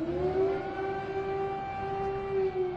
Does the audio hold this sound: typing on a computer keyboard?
no